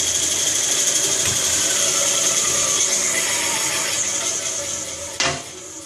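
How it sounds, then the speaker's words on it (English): A Delta 14-inch wood and metal cutting bandsaw runs through a cut with a loud, steady high-pitched whine and buzz, then winds down after a sharp clunk near the end. "14-inch wood and metal cutting bandsaw by Delta."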